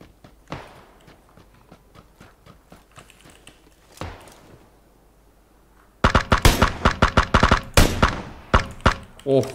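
Rapid gunfire in PUBG aimed at a buggy: faint distant shots at first, then loud bursts of close shots, with players talking over the action.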